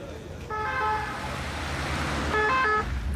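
An ambulance siren wails in steady two-tone bursts, loud and close, over the low rumble of a moving vehicle.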